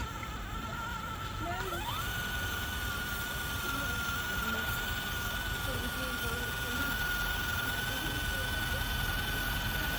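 A small RC crawler on stock tyres claws up a slight, loose dirt incline, its electric motor giving a steady, thin whine that rises and then holds for most of the stretch, with gritty rustle underneath.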